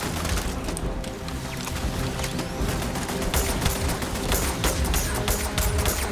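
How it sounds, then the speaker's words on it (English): Turret gunfire in the space game Starfield pounds out in dense, continuous volleys of rapid shots, loud and near, forming a relentless crackling barrage. "level 36 turret's been tagging us"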